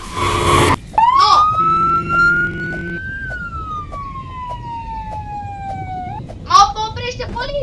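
A police siren wails in a long rising and falling tone, close and loud, with short bursts of talk and a few sharp electronic chirps around it.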